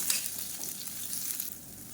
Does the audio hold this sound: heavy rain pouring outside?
no